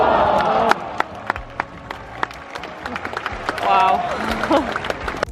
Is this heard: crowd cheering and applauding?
yes